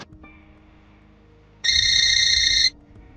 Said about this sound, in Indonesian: Telepon nih.